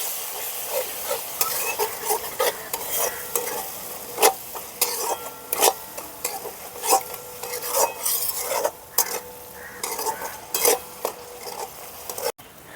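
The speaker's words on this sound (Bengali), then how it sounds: "মশলাটাকে ভালো করে কষিয়ে নেব।" A spice paste of dried chilli powder, cumin powder, coriander powder, salt and a splash of water is stirred and fried in a pan for potato curry: repeated scraping strokes and utensil clinks over a soft sizzle.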